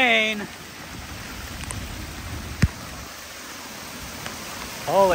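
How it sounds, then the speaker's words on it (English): A rain shower sweeps over a bison pasture as a broad, steady hiss, with a sharp knock midway, while a rising tonal whistle shows at the start and the end. "Here comes the rain."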